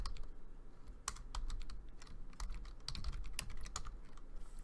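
Quick, irregular clicks of typing on a computer keyboard, close and fairly quiet, in short bursts with brief pauses and no talking.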